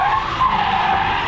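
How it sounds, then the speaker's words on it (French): Car tyres skid and screech through a spin-out, a dense sustained squeal over engine noise, loud and close, with no talk. "Romain, tu vas taper 4 têtes à queue"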